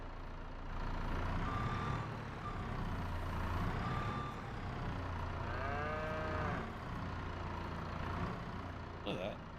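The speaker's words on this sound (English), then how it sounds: "Cows get loud when they're hungry." Cattle mooing in the Farming Simulator 22 game: several drawn-out moos rise over a constant engine hum from a farm vehicle, with a short burst of electronic beeps near the end.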